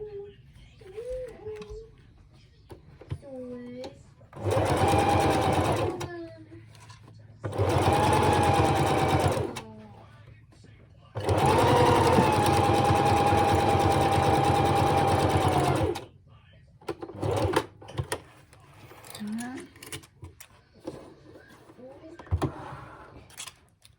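A sewing machine stitches the head of a memory bear in three loud bursts of rapid mechanical whirring, separated by quiet pauses in which a person speaks softly and fabric and pins are handled.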